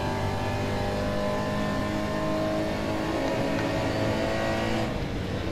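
Porsche Cayman GT4 Clubsport engine in RaceRoom Racing Experience, a steady loud droning engine note held at high revs with little change, heard alone without talk.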